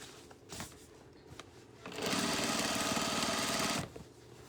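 A sewing machine top-stitches around the mouth of a fabric tote bag, a steady whirring run of about two seconds after a few short taps and light handling noises, heard alone and close.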